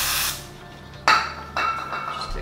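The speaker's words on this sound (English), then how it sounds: "Use just a little bit of brake clean just to clean." Brake cleaner sprays from an aerosol can onto Airstream travel trailer window parts in short hissing bursts, three close, sharp sprays of varying length separated by brief pauses.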